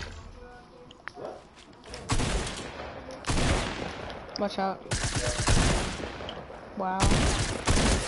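A drum gun fires in a shooter video game in long, rapid, loud automatic bursts separated by short pauses, with a voice talking briefly between them.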